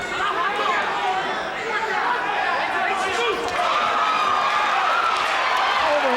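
A boxing-match crowd roars and cheers for Floyd Mayweather, a dense, loud wash of voices and chatter that keeps up steadily throughout.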